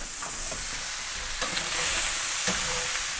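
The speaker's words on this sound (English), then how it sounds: "Time to give it a stir." Loud, close sausage sizzling in a pan, a broad hiss with a few brief scrapes as it gets stirred.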